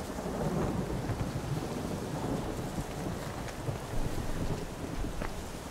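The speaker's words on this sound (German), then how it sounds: "direkt bei dem Sturm" Thunderstorm ambience in The Witcher 3 game world: a steady, loud wash of rain and wind with low rumbling thunder rolling throughout, no voices.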